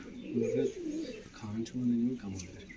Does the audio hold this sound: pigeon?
yes